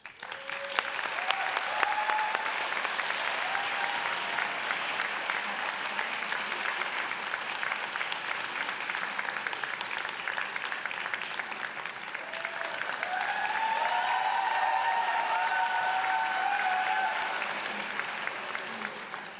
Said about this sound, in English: That was the biggest applause they've gotten all week